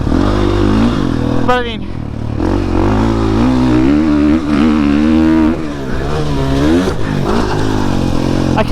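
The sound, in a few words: 2021 GasGas MC450F motorcycle engine while riding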